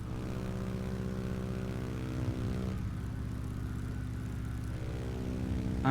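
Cessna 172 piston engine droning steadily in a VR flight simulator game, a continuous buzzing hum at moderate level with a slight shift in tone partway through, no voices.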